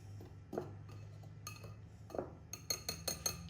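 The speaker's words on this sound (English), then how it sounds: "you just go ahead and mix all that together" A utensil clinks and scrapes against a bowl while dry waffle batter ingredients are mixed, soft at first and then a quick run of sharp, close taps near the end.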